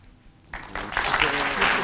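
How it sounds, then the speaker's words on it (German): An audience at an award ceremony breaks into applause after a short quiet lead-in, the clapping swelling quickly and holding dense and loud to the end. "Applaus"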